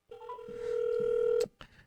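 A telephone tone sounds during a metal radio show's live phone-a-friend call, a steady loud beep lasting over a second with short dialing blips before it, then a brief clipped burst.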